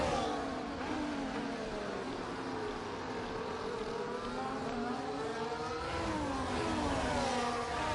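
Simulated Formula 1 car engine and gearbox in the F1 24 racing game at the British Grand Prix sprint, a loud, continuous high-pitched whine with rising and falling revs as the car shifts through gears, no talk.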